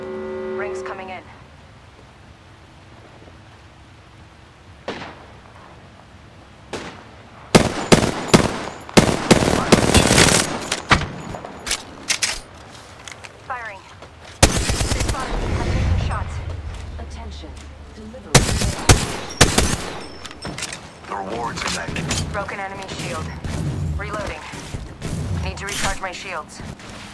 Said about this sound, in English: The second squad is firing at us.